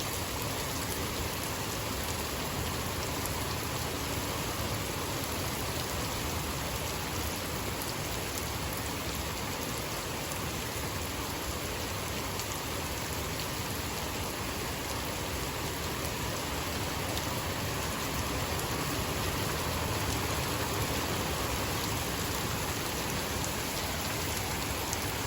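Steady rain pours down, a dense continuous hiss of drops striking surfaces that stays even and fairly soft throughout, with no voices or other sounds breaking through.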